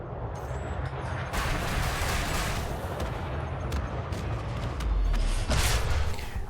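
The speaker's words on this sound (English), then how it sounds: "Nice explosion, and I got what I want." Loud space combat in the Elite Dangerous video game: a Fer-de-Lance ship's weapons fire in a sustained rapid barrage, with heavy booming explosions swelling over a continuous engine rumble.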